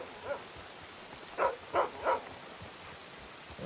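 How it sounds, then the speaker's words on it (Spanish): A dog in the video game Red Dead Redemption II barks three times in quick succession, short mid-pitched yelps standing out over a faint steady background hiss. "Me tomaré ese ladrido como un ánimo."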